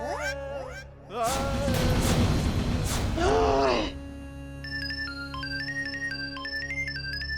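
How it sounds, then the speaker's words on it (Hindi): A mobile phone ringtone plays a repeating electronic melody of bright stepped tones in a quiet room, preceded by loud groaning voices. "किसका बजा फोन?"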